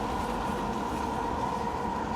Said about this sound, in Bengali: আর পিছনে মেট্রো রেল চলে যাচ্ছে